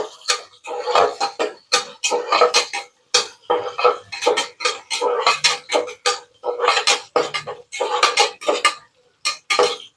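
Small onions being sautéed for a village-style country chicken curry: a spatula clinks and scrapes against the pan in quick, rhythmic bursts with brief pauses, close and fairly loud, and no one speaks.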